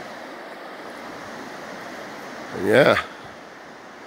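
Similkameen River rushing through a narrow bottleneck, a steady broad roar of fast water throughout, with a brief spoken word near the end.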